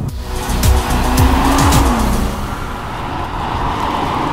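Nissan GT-R sports car accelerating hard under automatic gear changes, the loud engine note climbing in pitch and dropping sharply at each quick shift before settling into a steady roar.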